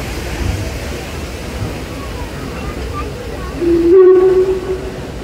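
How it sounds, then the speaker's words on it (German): Steam locomotive whistle sounding loudly and sustained for over a second as the engine pulls into an engine shed at a depot festival, with a steam hiss and a crowd murmuring in the background. "Vorsicht bitte in der Halle hier, wo die Lok reinkommt"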